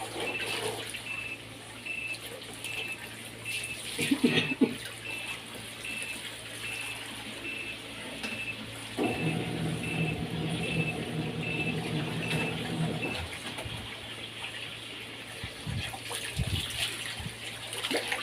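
Water streams steadily from a tap or hose during hand-washing of laundry, a continuous splashing flow that swells louder midway and then settles, with no talking.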